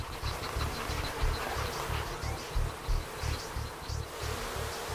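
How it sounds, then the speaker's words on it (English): Dense swarm of bees buzzing close by, a steady insect drone with pulsing low throbbing underneath, continuous and fairly loud with no talking. "Rude, it's time to get these bees off."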